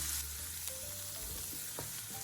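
Chopped asparagus and shredded green peppers stir fry in a hot pan, a steady close sizzle with occasional scraping stirs of the spatula.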